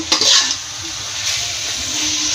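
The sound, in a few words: stir-frying clams with tomato and green onion in a pan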